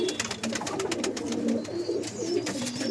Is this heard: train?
no